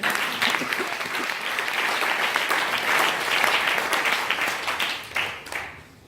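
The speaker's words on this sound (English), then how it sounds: "You can clap for the Lord." A church congregation claps in a dense, sustained round of applause for several seconds, fading out toward the end, with faint crowd voices mixed in.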